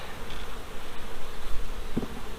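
Honeybees drone steadily in a crowded hive box, a close, continuous buzz with no voices over it.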